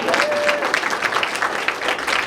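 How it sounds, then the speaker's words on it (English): A comedy show audience claps in a brisk, fairly dense burst that stays steady for a couple of seconds, with no talk over it. "Now clap it up."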